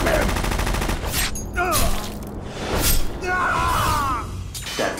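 Gunfire in a Metal Gear Solid graphic-novel cutscene: dense bursts of rapid shots mixed with shattering impacts and whooshes, loud and close, with shouting voices between the volleys.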